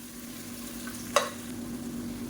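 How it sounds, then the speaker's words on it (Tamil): Sliced onions fry gently in oil in a pan for mutton biryani, giving a faint, steady sizzle with one brief utensil tap. "வெங்காயம் வதங்குறது தான் கொஞ்சம் டைம் ஆகும்."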